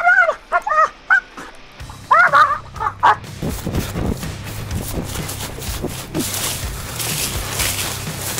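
A guard dog lets out several high yelping barks in quick bursts as it is released toward an intruder, then a rougher stretch of noisy scuffling and rustle follows without clear barking.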